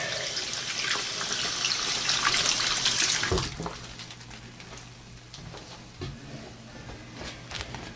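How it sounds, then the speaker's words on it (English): Running water rinses vintage Star Wars action figures: a loud, steady splashing stream for about three seconds, then it cuts off, leaving quieter drips and small handling sounds. "So then you just give them a little rinse and a towel dry."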